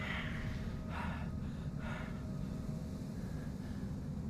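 A character in Call of Cthulhu breathes heavily, with a few audible gasping breaths spaced about a second apart over a steady low ambient hum; no speech.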